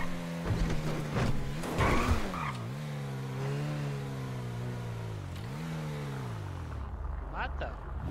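A video game car driving on punctured tires revs loudly and close, its engine pitch rising and falling while the tires skid and squeal.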